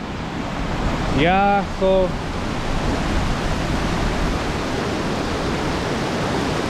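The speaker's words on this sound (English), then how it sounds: "Water is really flowing." A river in flood during the rainy season rushes loudly and continuously, a dense roaring wash of water close by, with a voice briefly speaking over it.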